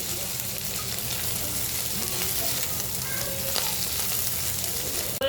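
Whole cumin, shrimp and pumpkin bori fry in a pan with a steady, loud, close sizzle and occasional stirring.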